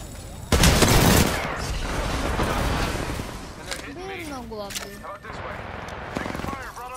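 Gunfire in an Apex Legends ranked match: a loud, dense volley of shots bursts out near the start and gives way to ongoing combat noise, with people talking over it.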